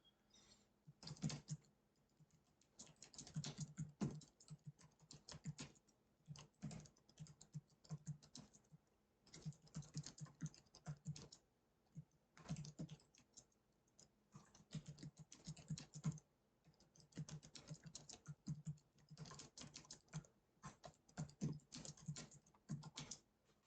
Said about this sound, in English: I'm gonna type this one in